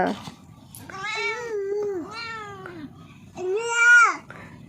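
A cat meows three times in a row, long whining calls with pauses between, the last one loudest and close by.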